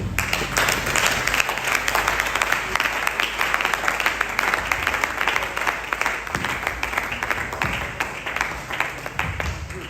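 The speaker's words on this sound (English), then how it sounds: "Can we applaud Professor G. Obo, our lecture well delivered" An audience at a university lecture breaks into sustained applause, with dense, steady clapping from many hands that continues for the full stretch without talk.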